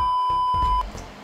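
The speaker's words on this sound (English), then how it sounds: "hit the notification bell" A notification bell sound effect plays as a single bright electronic tone held for under a second, fairly loud, with soft background noise and no speech over it.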